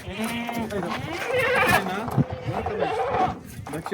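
Goats on a rural farm in Maharashtra bleat with wavering, quavering cries, several overlapping calls close by, mixed with people talking over them.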